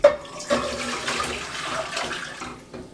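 Tap water runs and pours steadily into a 4-quart cooking pot in a home kitchen, a close, continuous splashing flow with a soft start and small changes in pitch as the pot fills.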